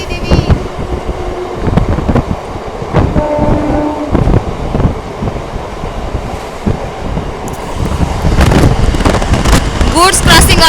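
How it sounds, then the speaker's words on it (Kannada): A goods train passes alongside a moving MEMU train on the Hubballi route, a loud, continuous rumble with rhythmic clatter of wheels and rattling wagons heard from inside the carriage, with voices over it. "ಗೂಡ್ಸ್ ಕ್ರಾಸಿಂಗ್ ಆಗ್ತಾ ಇದೆ ನಮ್ಮ ಟ್ರೈನ್ ಜೊತೆ."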